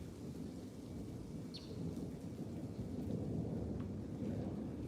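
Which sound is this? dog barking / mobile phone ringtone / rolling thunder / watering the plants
rolling thunder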